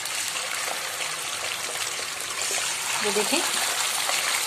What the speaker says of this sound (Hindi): ये हम ऑयल जो गर्म हुआ है इसके अंदर डाल के इनको फ्राई करेंगे।